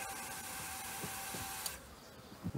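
An electric fuel pump on a Pontiac Parisienne with an LS or Hemi swap fuel system primes after the key is cycled, giving a steady faint high whine that stops abruptly, followed by a few soft clicks.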